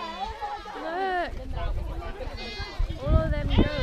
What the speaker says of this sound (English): All of them goats.